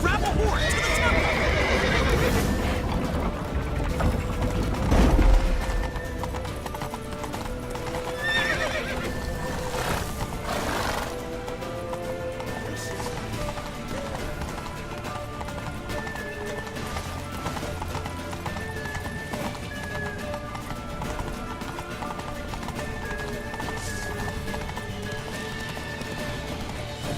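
Horses from The Witcher 3 gallop with steady clip-clop hoofbeats and let out loud whinnies, set against a busy game soundtrack with shouting voices throughout.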